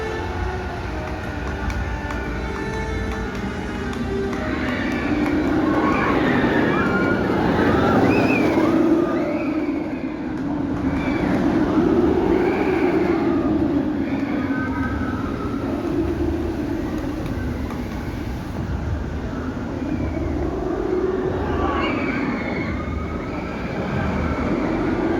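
Nemesis Reborn roller coaster at Alton Towers, a steady rolling roar of the train on the track with rising and falling swells of rumble across the whole run, no voices.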